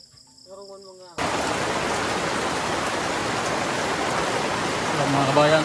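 Heavy rain pelts a tarpaulin sheltering freshly finished concrete letters, a dense, steady hiss that starts abruptly after a second of quiet with brief speech, then swells slightly near the end.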